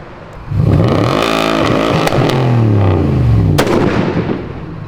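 Car packed with fuel blown apart in an extreme crash test, a heavy blast followed by a long roaring, rumbling burn with sharp cracks and pops, loud and close, with no talk.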